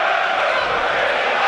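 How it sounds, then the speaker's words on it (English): Away football fans at Pride Park stadium shout and cheer in a steady, loud roar of crowd noise that runs continuously without a break. "They're just shouting every pass for them and cheering for everything they do."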